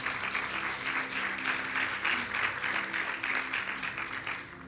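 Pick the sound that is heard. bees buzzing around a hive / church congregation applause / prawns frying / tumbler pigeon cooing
church congregation applause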